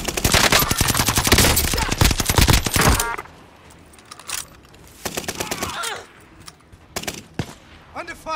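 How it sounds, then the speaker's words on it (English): In Call of Duty: Modern Warfare, loud, dense automatic gunfire fills the first few seconds, then gives way to scattered bursts and single shots, with voices in the mix. "Under fire! Sniper. Taking shots!"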